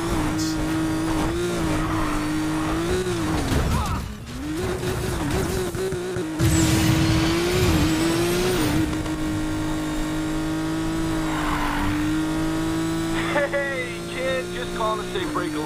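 Race car engines roar steadily in a street racing video game, with a sustained high-revving drone, brief tire squeals and shifting pitch, loud and continuous, with voices heard over the engine noise.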